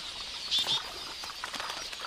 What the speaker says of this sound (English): The predator sizes up its prey, these quelea, which flock in the thousands.